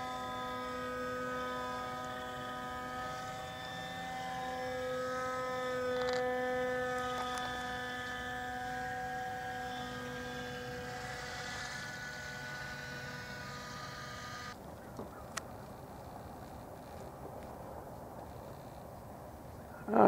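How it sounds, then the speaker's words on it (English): A Beaker radio-controlled model airplane drones steadily at a distance with its power throttled way back, descending from altitude on a calm day, the faint engine tone holding before cutting off near the end. "We got a Beaker coming down from altitude. Got the power way back."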